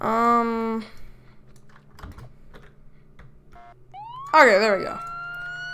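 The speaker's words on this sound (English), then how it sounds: "So I already hear people lighting up their lights and sirens" Police car sirens in a Roblox video game rise and wail in short bursts at a distance, mixed with light tapping and a voice speaking briefly.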